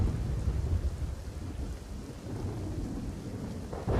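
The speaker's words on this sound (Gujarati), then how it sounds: "છેલ્લા 24 કલાકથી જે વરસાદ છે તે અવિરતપણે વરસી રહ્યો છે" Continuous monsoon rain falls outdoors in Songadh near Doswada Dam, a dense, even rush with low rumbling underneath and no voices.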